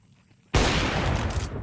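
A single loud shot from an AWP sniper rifle in Counter-Strike 2, a sudden heavy blast after near silence that is followed by a long, dense crowd-like roar that carries to the end.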